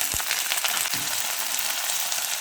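Chana dal, dried red chillies and curry leaves fry steadily in a pan of hot oil, a close, continuous sizzle with a couple of brief stirring knocks and no talk.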